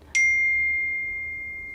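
A phone notification rings once as a single clear, bright ding, with the tone ringing out and fading slowly in a quiet room.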